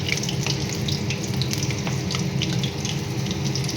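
Chicken satay pieces frying in a pan, a steady close hiss and crackle of hot oil running throughout with faint scraping, no voices.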